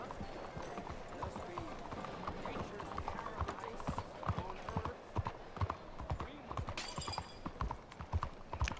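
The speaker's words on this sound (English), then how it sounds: "I love the sound of the horse galloping on this stone, though." In Red Dead Redemption 2, hooves clatter rhythmically on hard stone in quick, regular beats as a horse gallops, with people talking faintly underneath.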